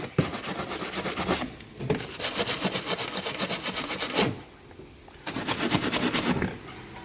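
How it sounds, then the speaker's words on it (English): Wire brush scrubbing the screws inside the front wheel arch of an Alfa Romeo Giulietta, a close, steady rasping in fast back-and-forth bursts with short pauses between strokes. "Give them a quick wire brush"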